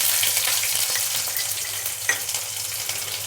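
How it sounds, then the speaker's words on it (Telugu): Garlic and onions fry in hot oil with spluttering mustard seeds for a potato and bean curry, making a loud, dense, continuous sizzle with crackling pops and one brief clink, close to the pan with no talking. "అందులోనే కొద్దిగా వెల్లుల్లి కొద్దిగా ఫ్రై కానిద్దాము"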